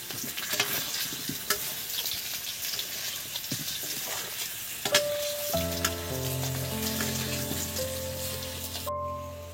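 Potato pieces fry in turmeric paste in a pan, giving a steady close sizzle with occasional scraping stirs, and a sustained tonal hum comes in toward the end.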